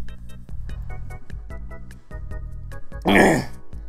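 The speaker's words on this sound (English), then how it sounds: "I've got this horrible cough" A single harsh throat clear from someone with a bad cough, a short rough burst near the end, over steady background music with a regular beat.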